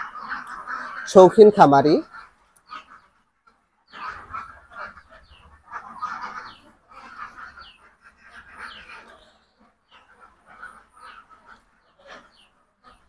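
Ducks on a small farm kept on the ground floor of a four-storey building give scattered, fairly faint quacks and calls, mixed with a person talking nearby.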